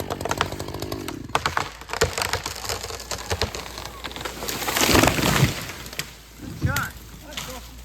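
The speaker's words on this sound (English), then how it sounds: "now he's just going to cut it the rest of the way so it starts to fall" A chainsaw finishes the felling cut through a hemlock tree, buzzing close and loud with rough splintering and cracking as the trunk gives way. Outdoor noise and a brief spoken voice come in near the end.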